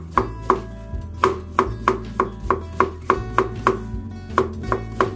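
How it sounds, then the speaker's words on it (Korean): A knife julienning cucumber on a cutting board in a Korean kitchen, producing steady, rapid, evenly spaced chopping taps at close range, with brief pauses between runs of strokes and no talking. "이렇게 칼질로 해서"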